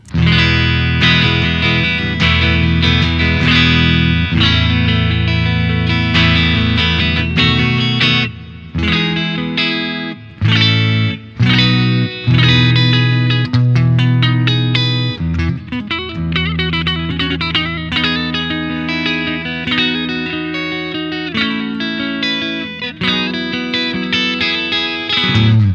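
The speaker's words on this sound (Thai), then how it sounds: "แล้วก็ข้ามาเป็นneck pick upนะครับ" A Paramount PE-700 electric guitar played through its neck pickup with distortion and effects, a continuous loud run of sustained chords and riffs with brief pauses, heard alone.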